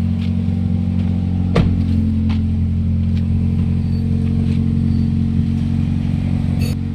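A Toyota Vios engine with a heavy smoke problem runs steadily nearby, a loud, even drone with a few sharp clatters and ticks over it and no clear revving swells.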